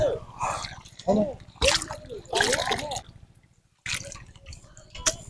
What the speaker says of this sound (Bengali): এই যে এগুলা ধুয়ে নিতেছি এখন ধুয়ে